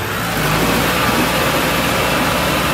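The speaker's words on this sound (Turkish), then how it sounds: "Tam gaz oğlum Mehmet" A car engine is held at full throttle, a steady loud roar with a mid to low drone that holds for the whole of the short stretch, with no talking over it.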